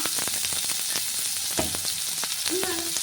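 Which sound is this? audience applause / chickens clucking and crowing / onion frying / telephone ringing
onion frying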